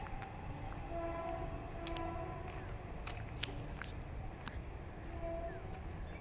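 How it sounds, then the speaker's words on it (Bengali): A train runs along a rail line a short way off through a rural landscape, a low steady rumble of wagons with faint whistle-like tones drifting over it at a distance. "পাশ থেকে হয়তো ট্রেনের আওয়াজও শুনতে পাচ্ছ, এখানে একটু দূরেই ট্রেন লাইন"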